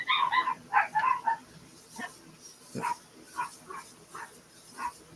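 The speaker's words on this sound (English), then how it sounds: "the dogs is having a fit out there" Dogs bark outside in a short burst of several sharp, yapping barks, followed by scattered single barks and yips at a moderate distance, with no talk over them.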